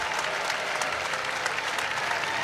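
Dense, loud applause from the crowd at a 2018 BBL basketball playoff final, a steady wash of clapping that holds unbroken for the whole stretch.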